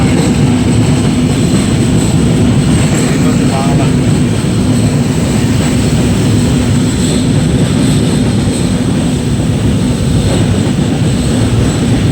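A train runs at night on the way to Darjeeling with a loud, continuous rumble and rattle heard from inside a dark carriage, steady throughout.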